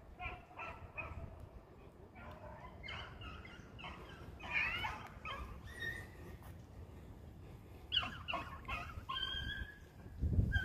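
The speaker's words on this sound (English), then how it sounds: "It's two or three dogs in the chase dead ready." Rabbit hunting dogs running a trail, several hounds yipping and baying in an outdoor chase, moderately distant and uneven, with brief bursts of barking rising and falling over a light background hiss.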